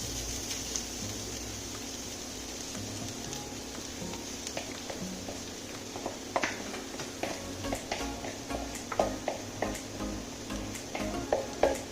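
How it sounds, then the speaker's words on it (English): Carrots sautéing in hot ghee in a pan for gajar ka halwa, a steady soft sizzle throughout with scattered clicks and stirring scrapes growing sharper toward the end, close and moderately quiet. "once that is heated up, you can add your carrots. Here goes the carrots."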